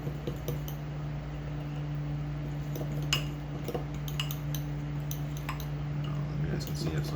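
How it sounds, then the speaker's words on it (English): A fork whisks chocolate mug cake batter inside a mug, producing rapid light clinks and taps against the ceramic, mostly quiet and tucked under a steady background hum. "we're going to mix this together until we have no big clumps left. So we use this fork, it'll whisk"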